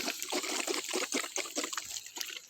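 Water trickles steadily through a drip irrigation line on a farm, with a continuous close, soft dribbling and gurgling and no one talking.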